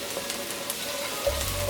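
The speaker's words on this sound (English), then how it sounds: "I'm going to sprinkle in a little bit of Cayenne chili powder, and we're just going to toast that off for a couple of seconds" Cayenne chili powder toasts in a hot pan for gobi manchurian, giving a brief, faint, even sizzle.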